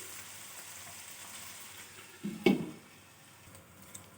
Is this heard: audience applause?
no